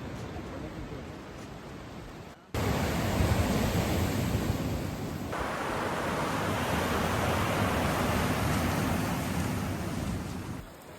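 A really small waterfall pours as a continuous hissing rush up close, steady and fairly loud, with a brief drop partway through before the flow noise resumes.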